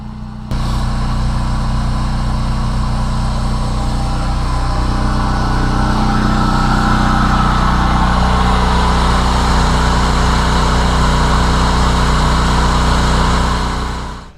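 A portable generator runs inside a ventilated Suncast storage shed box, a steady droning engine hum that starts abruptly and holds constant and loud for over thirteen seconds before cutting off.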